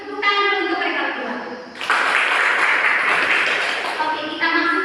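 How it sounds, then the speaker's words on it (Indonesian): A classroom of students claps for two classmates, a dense burst of applause rising after a teacher's voice and continuing for a few seconds. "Tepuk tangan dulu untuk mereka berdua."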